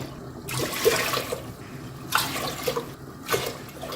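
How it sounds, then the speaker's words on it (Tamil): Water poured into a pot of rice for Dindigul Thalappakatti chicken biryani, four measures for the rice. It comes in several splashing, rushing bursts with short pauses between them, close up, with no talking. "இப்போ வந்து நாலு படி தண்ணி ஊற்றிக்கிறேன்"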